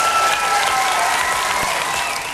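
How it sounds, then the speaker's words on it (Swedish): Steady applause from a large crowd at a televised talent competition final, dense and continuous, holding at full level before starting to fade at the very end. "så jag får sitta och applådera istället"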